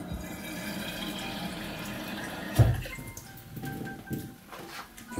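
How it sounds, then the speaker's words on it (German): Water is poured into a bowl, a soft, close splashing and trickling that gives way to a brief thump of the vessel, then quieter dribbles and small splashes. "In die andere kommt jetzt Wasser rein."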